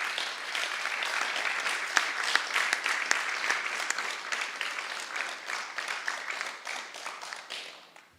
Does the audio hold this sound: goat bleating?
no